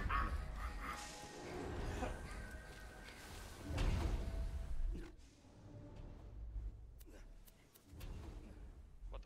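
A pup skag in the video game Borderlands 2 barks and yips in short bursts amid thuds and other game noise, with people talking over it.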